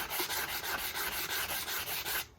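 Steady back-and-forth rasping of sandpaper over antique oak shelves, a rhythmic series of close strokes that stops abruptly near the end.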